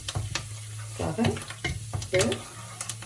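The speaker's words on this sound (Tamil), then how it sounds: "கறிவேப்பிலை நல்லா பொரிஞ்சு வரும் வரைக்கும் பொரிய விடுவோம்" Curry leaves fry in oil, crackling and sizzling steadily in a pan, with scattered louder pops and faint stirring noises close by.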